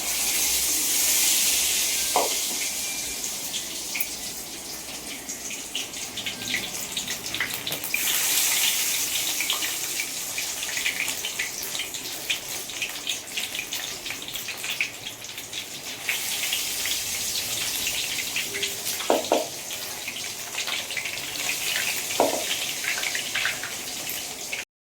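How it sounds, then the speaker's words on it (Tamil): Chicken 65 pieces frying in hot oil, a steady, loud hiss and crackle that runs for the whole stretch with scattered pops, and no talk over it. "எண்ணெய் காஞ்சிச்சு. 65 போட்டுக்கலாம்."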